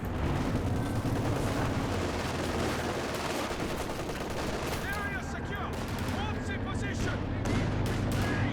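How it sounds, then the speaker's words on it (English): MG34 machine guns firing in Company of Heroes 2, a dense, continuous battle din of automatic fire and blasts that never lets up, with a commentator talking over it. "MG34 on top of the fuel point here. And these MG34s smothering VonIvan right now."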